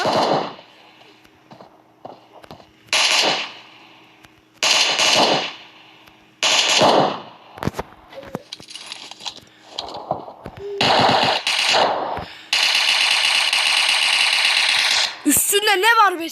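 Bursts of gunfire from the battle royale shooter PUBG, loud repeated volleys and automatic strings of shots with gaps between, ending in a long sustained stretch of fire and a sharp final sound, with no talk over it.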